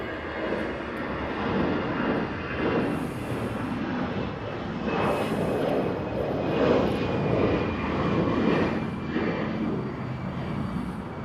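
Airliner arriving at LAX, a steady broad engine roar holding loud and near for the whole stretch with slight swells, no voices present.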